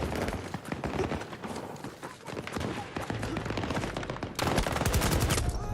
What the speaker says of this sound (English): God, we've got sentry guns over there.